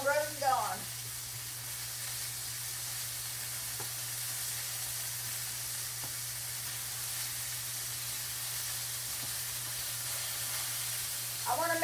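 Liver and onions frying in a skillet, giving a steady, even sizzle at moderate level for the whole stretch, with a low constant hum beneath it and no clear talking.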